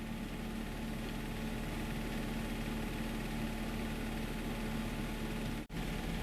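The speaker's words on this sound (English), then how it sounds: "The noise you can hear is the air conditioner." Air conditioner running in a model railway room, a steady close, broadband whirring hum with a low drone that holds evenly, cut by a brief dropout near the end.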